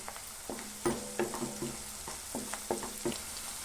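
Crushed garlic and cumin go into a pan of frying sweet potato: a soft, low sizzle under a series of sharp, irregular spatula clacks and scrapes against the pan, fairly quiet and close, with no speech.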